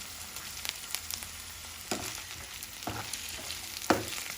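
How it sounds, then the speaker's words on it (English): Vegetables and mint leaves sauté in a pan with a soft, continuous sizzle, broken by a few louder stirring scrapes and bursts spaced about a second apart. "saute it for 5 to 6 minutes."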